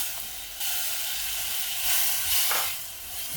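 Green mango pieces sautéing in a hot pan give a steady broadband sizzle and hiss that swells briefly in places, close and alone with no voices.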